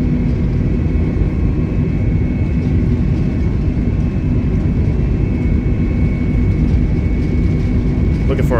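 Airbus A320neo engines roaring steadily at takeoff thrust in Flight Simulator 2020, a loud continuous low rumble with a faint high whine, a voice speaking briefly over it.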